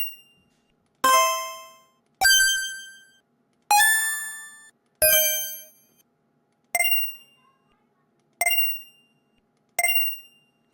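AI-generated subtle two-tone reward chime for a game, a series of clean metallic ding tones, each struck sharply then decaying, repeated about eight times with short silences between, quiet and isolated.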